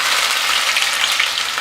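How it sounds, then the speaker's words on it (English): Chopped garlic and ginger sizzle in hot oil for chili oil, a dense, steady hiss that is close and constant throughout, with no talk. "I can hear the sound there sizzling."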